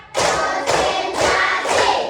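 A classroom of students claps in unison in a counted rhythmic clap routine, four loud group claps spaced evenly, each a sharp burst with a short ringing tail, no talking.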